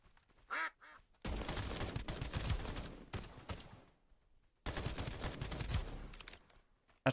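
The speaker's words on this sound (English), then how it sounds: "Heard someone quack." Duck quacks in the video game Escape from Duckov, two short quacks near the start, followed by long stretches of loud rapid gunfire.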